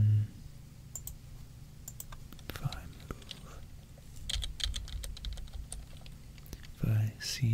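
Close, soft typing on a computer keyboard during an ASMR coding session, with irregular bursts of key clicks under quiet whispered speech.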